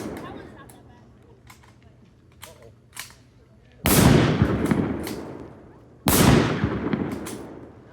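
Two loud, close World War 1 rifle shots boom at a living history demonstration a couple of seconds apart, each with a long echoing tail, after a few softer clicks and handling noises.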